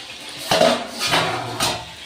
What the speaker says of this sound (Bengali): দেখুন বন্ধুরা চাপাটা আর একবার খুলে দেবো